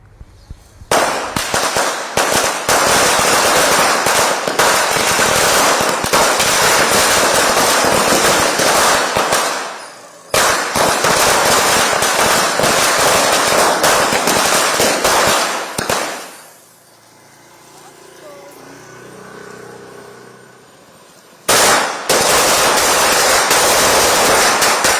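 Dense strings of firecrackers crackle and pop nonstop during a Diwali street celebration in Chennai, loud and close, with brief pauses and a quieter stretch of distant bursts before another loud volley.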